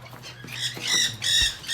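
Birds squawking inside a backyard bird building, a few loud close harsh calls in quick succession over a low background hum.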